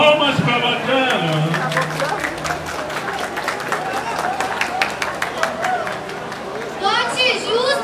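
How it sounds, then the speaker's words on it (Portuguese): A crowd at a Brazilian rap battle semi-final breaks into brief applause and cheering, with voices talking and shouting throughout over the clapping. "Palmas pra bacana."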